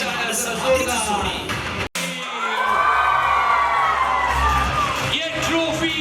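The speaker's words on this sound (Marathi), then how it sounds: "गणेश सरनाईक साहेबांसाठी मनपूर्वक टाळ्या जोरदार" Crowd at a sports tournament event cheering and clapping for guests, with whoops and shouts rising in a loud wash after a brief cut, voices mixed in throughout.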